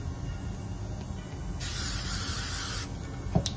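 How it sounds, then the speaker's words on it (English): 3M Super 77 adhesive spray hisses onto a cardboard collar in one steady burst of a little over a second, close and moderately loud, followed by a brief tap. "going to use 3M Super 77 adhesive spray and just spray both sides of this"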